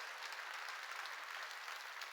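A church congregation applauds in a steady, dense patter of many hands, heard from some distance at a moderate level.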